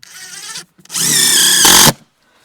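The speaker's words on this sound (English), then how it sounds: "Just put a screw in there now" A power drill drives a screw down into a floor joist during a garden studio base and floor build, whirring loud and close for about a second in a single steady burst after a shorter, lighter spin.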